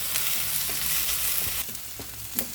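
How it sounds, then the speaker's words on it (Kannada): Chopped onion and capsicum frying together in a pan for tava pulao, a steady close sizzle with occasional stirring scrapes and clinks, no talking. "ಕ್ಯಾಪ್ಸಿಕಮ್ ಹೆಚ್ಕೊಂಡಿದ್ದು 1 ಕಪ್ಪು ಹಾಕ್ತಾಯಿದ್ದೀನಿ. 2 ಒಟ್ಟಿಗೆ ಫ್ರೈ ಮಾಡ್ಕೊಳ್ತಾ ಇದ್ದೀನಿ."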